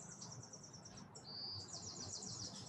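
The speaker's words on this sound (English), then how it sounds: "hearing the sound of the birds and the trees above you" Birds chirp faintly in trees outdoors, rapid high twittering calls repeating in short trills over quiet ambient background, distant and soft, with no voices.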